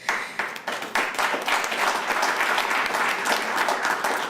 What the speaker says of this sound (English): We may want to hold on the applause.